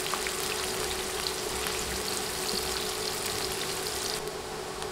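Chopped garlic and onion sizzle steadily in hot oil for chow mein, a dense continuous crackle with fine popping, close and loud, with no voices.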